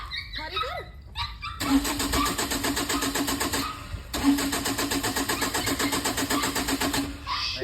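A car's engine cranks over and over in winter cold without catching, two long runs of rapid rhythmic churning separated by a brief pause, close and loud, with a few short barks or calls just before.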